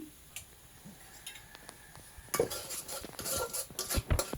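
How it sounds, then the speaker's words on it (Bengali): Spices being sautéed with surma fish and taro in a pan, quiet at first with scattered soft taps, then a spatula scraping and clacking rhythmically against the pan over a light sizzle. "ভালো করে কষিয়ে নিব এভাবে"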